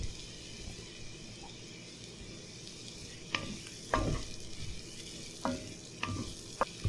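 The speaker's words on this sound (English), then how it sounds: "I'm gonna move this up so you could hear the sizzle" Steady sizzling from a hot frying pan while making Alfredo pasta, with a few sharp clanks of a utensil stirring and scraping near the end.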